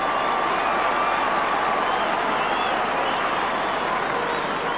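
Australian football crowd at Hawthorn versus Richmond roaring after a goal kicked from 45 metres in windy conditions, a dense sustained cheer and applause from a large stadium throughout.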